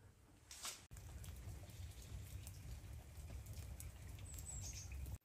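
Rain falls steadily outside a farmhouse, a continuous dense patter with brief sharper taps, close and even throughout.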